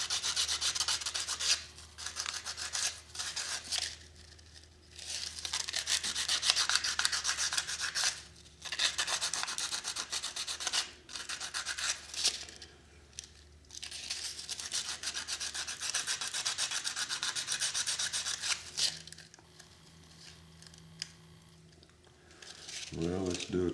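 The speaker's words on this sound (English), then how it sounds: "I'm going to get my sandpaper here. Sand off that fuzz." Sandpaper rubs back and forth in steady scratchy strokes to take fuzz off a part for a homemade kerosene lantern, close up and continuous with brief pauses between passes, with some talking partly heard.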